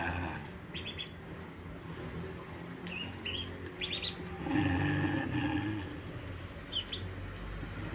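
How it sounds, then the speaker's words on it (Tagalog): Two small ducklings kept in a sink, giving short high chirping peeps in scattered bursts over a steady background hiss, with one louder, fuller call midway. "ayan ang itik. May dalawang itik akong nakita."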